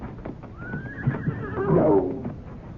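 A horse named Stargazer lets out one long neigh in a radio drama, a rising then falling whinny heard close and clear over faint background noise.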